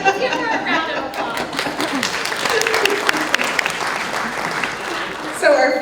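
Audience at a chamber of commerce candidate forum giving a round of applause, a dense burst of clapping lasting several seconds with a brief voice at the end.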